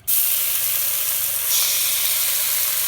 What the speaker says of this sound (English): what I'm gonna do now is I'm gonna put in some bacon